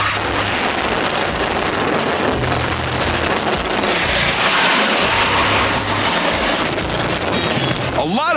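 A custom-built motorcycle engine runs with a loud, steady roar that fills the whole stretch, its rumble rising and falling slightly, while a voice is heard faintly underneath.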